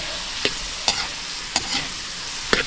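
Bagoong shrimp paste frying in a little oil, with several sharp stirring scrapes spaced through a steady soft sizzle, close and clear with no talking.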